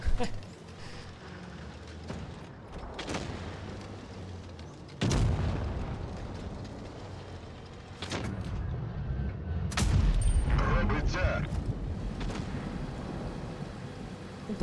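Heavy tank cannon blasts boom out one after another at irregular intervals in the video game World of Tanks Blitz, each with a sharp crack and rumbling tail, amid continuous battle noise.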